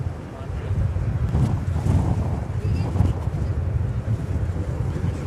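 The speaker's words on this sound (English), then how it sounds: "Airport saying the winds are at 20 miles an hour right now" Wind gusts at around 20 miles an hour at an airport, buffeting the microphone with a rumbling, rushing roar that rises and falls. The noise is loud and close, and faint sounds like speech in the background.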